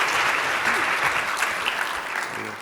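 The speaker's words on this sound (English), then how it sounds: "another round of applause for our distinguished guests before we let them free" Seminar audience applauding distinguished guests at a strategic trade management industry outreach event, sustained dense clapping filling the room without speech.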